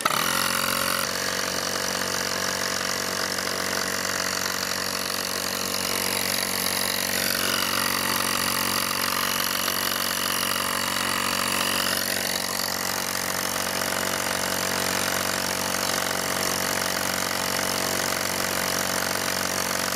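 Parkside Lidl portable power generator started and running under load, a loud constant engine drone with a brief pitch dip as the load shifts, no talk.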